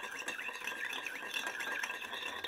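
A spoon stirs a soy sauce dipping sauce in a bowl to dissolve the sugar, making a quiet continuous clinking and scraping.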